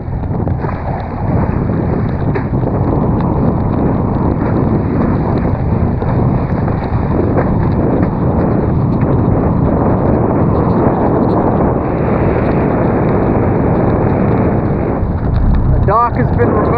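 Gusty easterly wind buffeting the microphone near the water where people go parawinging, a constant loud low rumble and roar throughout with no pauses.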